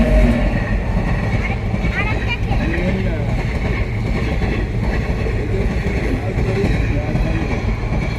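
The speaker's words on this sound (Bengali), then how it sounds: "ওই যে ট্রেনটা কি স্পিডে আসছে" A fast train passing near a riverside tourist viewpoint at Gajoldoba, a steady loud rumble with rattling that holds throughout, while people talk nearby.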